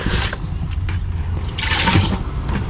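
Water splashes and trickles as a bucket and small items are rinsed, a close, steady wet wash with brief pours and drips and no talking.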